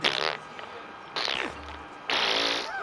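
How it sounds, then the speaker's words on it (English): A character in Assassin's Creed II letting out a few loud, buzzing farts, three separate raspy blasts of uneven length, close and prominent, with a voice briefly in between. "Just fucking farting."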